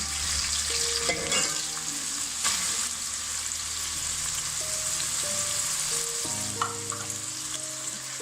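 Onions fry in a pan for aloo methi, a continuous, even sizzle heard close up, with occasional stirring clicks and a low steady tonal hum beneath.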